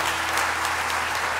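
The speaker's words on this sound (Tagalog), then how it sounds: "isa pang malakas sa palakpak sa ating Panginoon" Congregation applauding for a church worship team at a Philippine Bible Society seminar, a dense steady wash of clapping filling the room throughout without pause.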